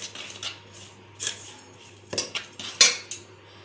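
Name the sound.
mixing malpua batter with raisins, fennel and cardamom in a bowl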